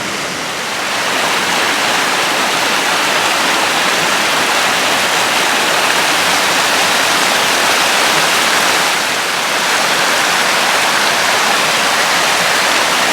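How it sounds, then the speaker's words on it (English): Creek water rushes steadily past a log jam where foam collects, a dense, continuous broadband wash that stays loud and even throughout with no voices. "Hope you guys enjoy this little peaceful look at the creek here."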